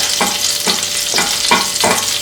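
Food sizzles loudly in hot olive oil, with steady rhythmic scraping pulses as it is stirred in the pan.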